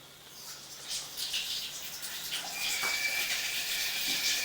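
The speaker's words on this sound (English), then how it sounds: "I'm going to go ahead and run some water" Water runs steadily from a tap into a stationary tub in a house basement, a continuous hiss that grows somewhat louder and fuller toward the end, with no talk.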